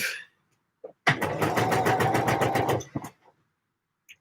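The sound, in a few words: sewing machine sewing the back seam of a Deer and Doe Lupin jacket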